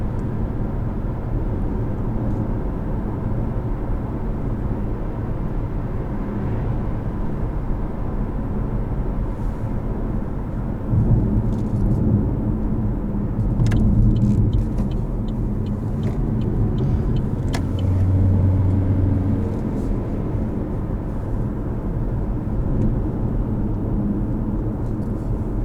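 A 2020 Chevrolet Malibu RS on the road, heard from inside as a steady low engine and road rumble with tire noise, swelling slightly at times and continuous throughout, with no talking.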